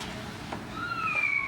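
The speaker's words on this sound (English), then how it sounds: "It sounds to be like a real cat." A cat meows from somewhere below in a house, two rising-and-falling cries close together near the end, heard alone over low room noise.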